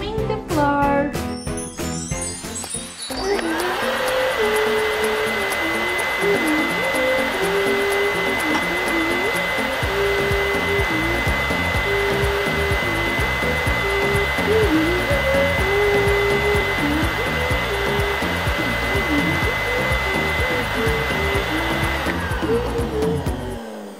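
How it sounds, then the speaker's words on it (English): A Barbie cleaning toy set vacuum cleaner hums with a loud, steady whir for about twenty seconds, preceded by a few seconds of tinkly jingle music, close and continuous. "vacuuming the floor."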